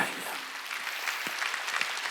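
A church congregation claps during a Sunday worship service, a short burst of dense, steady crowd applause heard from within the hall.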